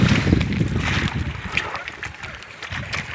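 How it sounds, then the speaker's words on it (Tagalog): Large sea waves slosh and splash against a small boat in rough water, loud and close, with someone speaking over the churning water. "Mabagat po kasi dito sa amin kaya malaki ang alon."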